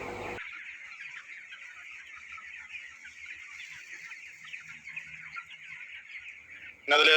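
A large flock of broiler chickens on a chicken farm keeps up a steady, dense chorus of clucking and chirping, moderately close, with a brief louder burst of noise at the end.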